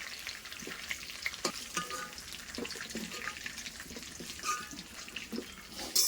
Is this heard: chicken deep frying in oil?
yes